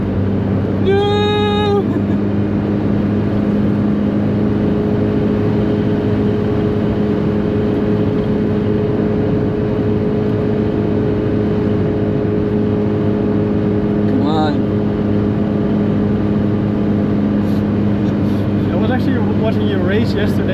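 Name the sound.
Daihatsu Copen engine racing on the Nürburgring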